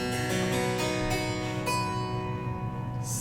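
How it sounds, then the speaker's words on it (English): A harpsichord played up close, its plucked strings giving bright, metallic notes in a quick run that fades into a ringing sustain, heard alone in a room. "So this is the sound of a harpsichord."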